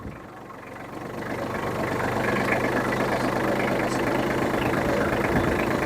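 A small tractor engine runs steadily while swales are being cut into the ground, a close, continuous rumbling drone that rises slightly and then holds at an even level, without talk.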